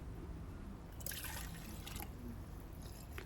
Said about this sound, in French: On ajoute de l'eau.